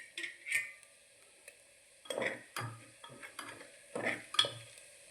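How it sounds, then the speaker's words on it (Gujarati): A spoon stirs green pigeon pea (lilva) curry in a pot, giving several short scraping strokes against the vessel with brief pauses and a faint sizzle in between, close and fairly quiet. "હલાવી દો બધું"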